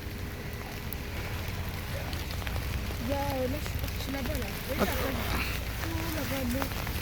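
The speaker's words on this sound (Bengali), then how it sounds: "আজকে খুব বৃষ্টি হচ্ছে সিসিলিতে।" Steady heavy rain hiss fills the background throughout in Palermo, Sicily, with a few faint tonal sounds drifting over it.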